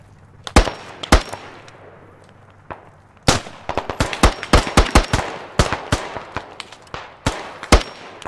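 Gunfire in the Squad video game: a few isolated sharp shots, then a rapid run of closely spaced rifle cracks and irregular single shots, loud and punchy with short echoing tails.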